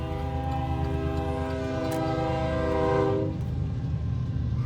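A freight train in Southern Illinois rumbles past close by while its horn holds a loud, sustained chord for about three seconds before cutting off, leaving the rolling rail noise.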